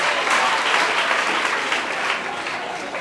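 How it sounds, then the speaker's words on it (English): Sustained applause from an audience at a 2022 foundation event, a dense wash of many hands clapping that stays steady and fairly loud, easing off slightly toward the end. "A round of applause for all the people that ask questions."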